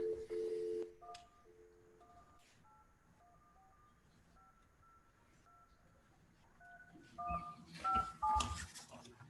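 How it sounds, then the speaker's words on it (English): A telephone keypad dials a number, giving a series of short touch tones spaced unevenly over several seconds. Louder bursts of noise come at the start and end, and faint voices sit underneath. "Dial the phone here."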